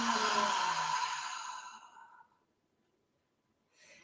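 A long, deep, slow breath drawn and released during a guided relaxation session, loud and close at first and then fading over about two seconds into silence, followed by a faint rustle.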